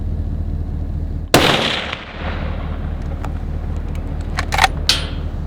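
A single loud rifle shot on a mule deer hunt in Sonora, Mexico, a sharp blast followed by a rolling echo that fades over half a second, then scattered faint clicks outdoors.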